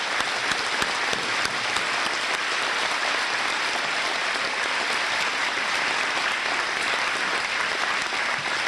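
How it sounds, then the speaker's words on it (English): A large graduation audience applauds the graduates' grandparents with steady, dense clapping that fills the hall evenly from start to finish, heard at a moderate distance with no talk over it. "let's give them a round of applause"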